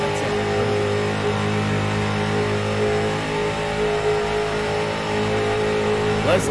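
Street stock race cars in a close pack roar continuously at full throttle, a dense, loud engine drone with layered revving tones holding steady throughout.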